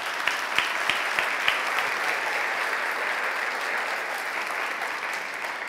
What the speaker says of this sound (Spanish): Alguien déle un aplauso a Jesucristo por ello.